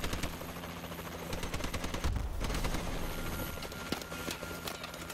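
Sustained gunfire in the video game Call of Duty: Advanced Warfare, with dense rapid bursts of automatic shots and a heavier blast near the middle, loud and continuous throughout.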